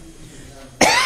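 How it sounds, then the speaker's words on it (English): One short, sharp cough bursts out loud and close during a school board meeting, after a moment of quiet room tone. "Excuse me if I'm coughing"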